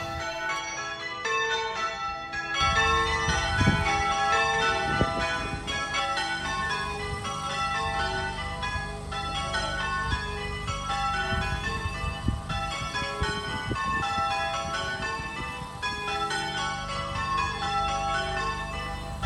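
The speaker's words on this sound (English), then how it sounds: "the bells started ringing" Church bells at St Giles Church in Imber ring a quarter peal, with a steady, continuous cascade of overlapping bell strikes that carries on throughout under low background rumble.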